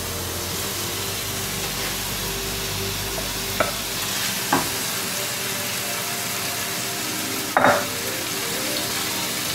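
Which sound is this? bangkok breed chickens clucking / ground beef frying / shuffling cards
ground beef frying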